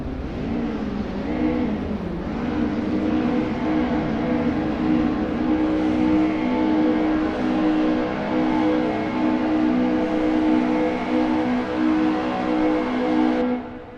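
A pack of 1000cc Dwarf race cars pulling away at a race start, a continuous loud engine drone with rising revs and layered whining motors sustained throughout, no talking.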